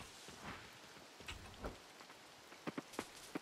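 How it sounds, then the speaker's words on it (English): Rain falling in the farming game Coral Island, a soft steady hiss of rainfall with scattered louder droplet taps toward the end, fairly quiet and with no voices. "It's only a bit of rain."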